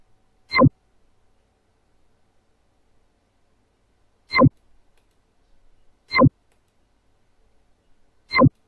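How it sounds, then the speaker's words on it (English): A computer mouse clicks on an insert button in a database application, four crisp, isolated clicks spaced a few seconds apart, close and clear against near silence. "simply click on the insert button"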